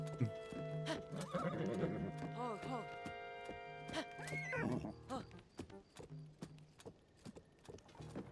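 A horse in a video game, Hyrulean Artificer Simulator, whinnies and neighs loudly, then hooves clip-clop in an irregular rhythm over a low steady hum.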